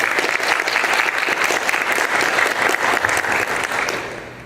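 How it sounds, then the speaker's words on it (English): Warm audience applause greeting anime director Kenji Kamiyama and producer Tomohiko Ishii at a panel event, continuous close clapping from a full crowd that fades slightly at the end. "So let's give them a warm round of applause."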